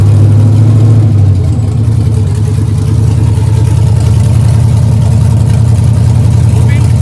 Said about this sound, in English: Alright, put it in gear.